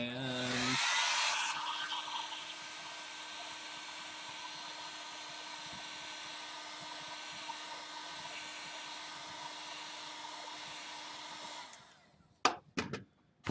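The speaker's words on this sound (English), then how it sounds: "that's what it looks like before hitting it with our heat gun" A heat gun blows steadily on a foam prop, a loud, constant airy whoosh with a faint whine that runs for about eleven seconds before cutting off, followed by a few sharp knocks.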